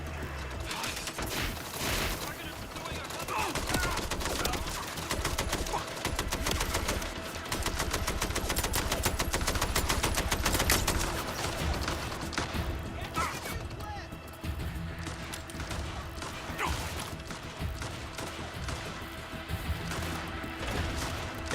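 Gunfire in the Mind's Eye video game, with repeated shots and rattling mechanical clatter going on throughout amid a busy, noisy battle, while a voice talks over it.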